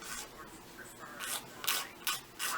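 A nail file scrapes against a fingernail in a few short, raspy strokes, close up and unevenly spaced, with quiet background between them.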